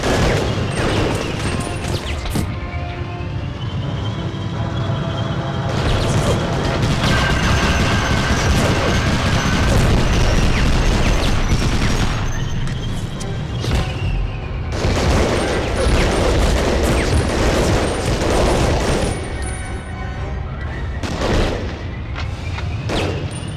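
Rapid submachine gun bursts in a first-person shooter, loud and dense, mixed with explosions and crashing impacts throughout, alongside near-continuous game effects and music.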